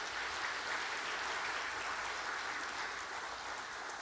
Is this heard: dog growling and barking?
no